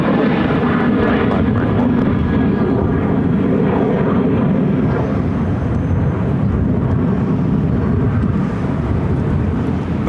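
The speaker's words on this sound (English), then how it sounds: "This is American Airlines 408 to Minneapolis on a 737-800." An American Airlines Boeing 737-800 bound for Minneapolis roars at Phoenix airport, a loud, steady, broadband engine rumble that holds throughout, close by.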